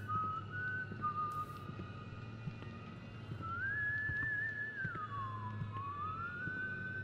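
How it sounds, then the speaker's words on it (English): A faint, sustained whistled tone in the video game White Day wavers and slides up and down over a low background hum, heard at a distance. "Instead, I just have to listen to the whistling."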